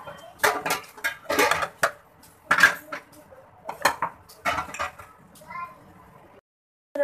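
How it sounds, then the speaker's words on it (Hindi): Dishes and cutlery are washed in a home kitchen sink, with repeated clinks and clatters of metal and plates in irregular bursts, close up, while a voice and other talk are heard alongside. "मैं इधर बर्तन धोने आई थी"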